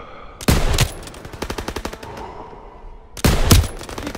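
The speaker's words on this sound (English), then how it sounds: "MGs, open fire." Machine guns firing in the WWII shooter game Call of Duty WWII, loud rapid bursts of automatic fire close by, a long rattling volley followed by a pause and another heavy burst.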